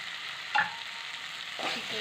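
A pan of frying food hisses steadily up close, with one brief metallic clink early on and a swell of stirring near the end, no voices present.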